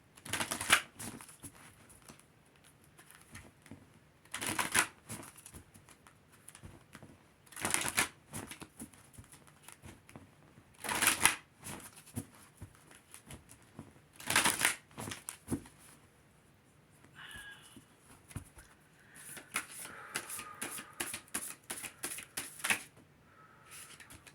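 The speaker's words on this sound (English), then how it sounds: "let's get a good shuffle" A deck of cards is shuffled repeatedly, with crisp riffling bursts coming in regular waves, close and fairly quiet, with soft handling sounds between.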